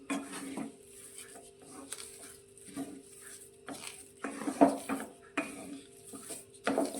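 A spoon stirs a pink laddu mixture in a bowl, soft scraping and clinking in uneven bursts, quiet and close with gaps between strokes.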